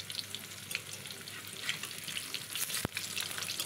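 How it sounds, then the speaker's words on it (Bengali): Sliced kakrol (teasel gourd) with prawns fries gently over a low gas flame, giving a steady soft sizzle with brief stirring scrapes and a sharp clink near the end. "একদম কমিয়ে নিবু আঁচে এটা ভাজা হবে"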